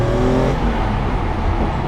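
A car engine rumbles with a deep, bassy tone at low speed, heard steadily from close by with broadband road noise.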